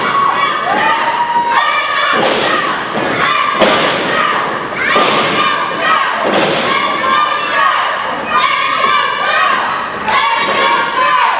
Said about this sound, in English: You can hear the fans and what they want.